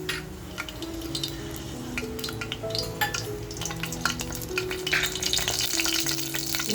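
Whole spices crackle and sizzle in hot oil and ghee in a pan for a Rajasthani laal maas, with close bursts of spattering, a stirring spoon scraping and faint background music underneath.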